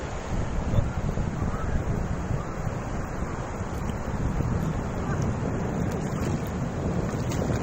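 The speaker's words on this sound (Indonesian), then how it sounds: "ombak besar bing." Big waves on the Bengkulu beach shore, a loud steady roar of surf mixed with wind buffeting the microphone, continuous and close with no speech.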